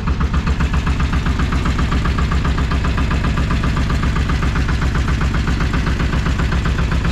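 A loud boat engine on Lake Eğirdir in Turkey idles and runs with a heavy, rapid, regular chugging pulse, close and unbroken with no talk.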